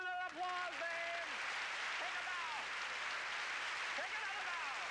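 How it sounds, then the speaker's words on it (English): A stage magic show audience breaks into sustained applause that fills the room evenly from start to finish, with a voice speaking over it near the beginning. "Listen to that applause, babe."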